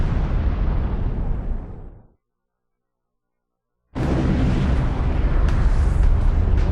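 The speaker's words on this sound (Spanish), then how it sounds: "Fue una explosión tan inmensa que su resplandor pudo verse a miles de kilómetros." A documentary sound effect for the massive Tunguska explosion: a loud, dense, rumbling blast that fades out, then near-silence, then a second heavy roaring burst that sustains to the end.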